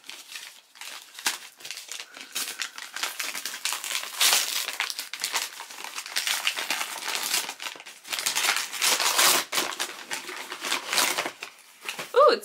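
A present wrapped in cute wrapping paper and dog tape is unwrapped up close, with a continuous run of crinkling, crumpling and tearing paper in irregular bursts throughout.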